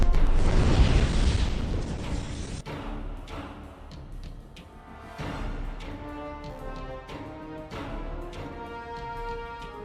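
A film explosion from Alien vs. Predator as a pyramid under ice is engulfed: a loud, dense blast that cuts off after about two and a half seconds, followed by quieter resonant rumbles and tonal booms.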